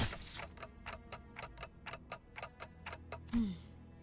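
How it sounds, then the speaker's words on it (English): Steady mechanical ticking in a video game set in a dark forest, about a dozen evenly spaced clock-like ticks close and clear, ending with a brief louder thump. "ticking is all I can hear"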